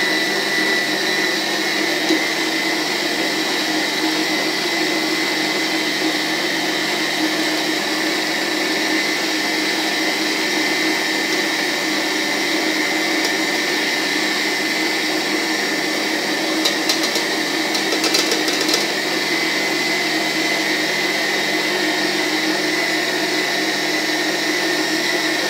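An electric mixer whirs continuously, beating a still-warm mixture of butter and coffee for cake batter, with a loud, steady, unbroken motor hum from start to finish.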